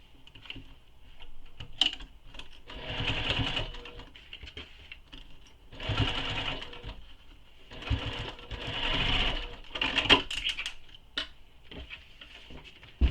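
A sewing machine basting the layers of a quiver sling bag together along the seam allowance, whirring in several runs of a few seconds each, close and moderately loud, with small clicks between runs.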